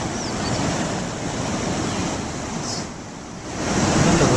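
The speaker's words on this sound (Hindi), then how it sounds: "बारिश के चलते सड़कों पर सैलाब उमड़ता हुआ आपको दिखाई पड़ रहा है।" Floodwater from monsoon rains rushes down roads in Satara, Maharashtra, with a steady, loud, broadband roar that runs unbroken, swells slightly near the end, and has no voices over it.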